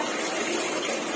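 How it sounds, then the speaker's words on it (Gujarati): Water runs from a household tap in a steady, close, continuous hiss and gush, with no voices. "નળ બંધ કરજો બેટા"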